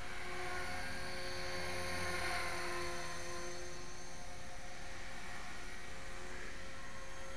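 HK 450GT radio-controlled model helicopter flying in a snowy, frosty garden, a steady high-pitched rotor and motor whine that holds loud and constant throughout with no talking.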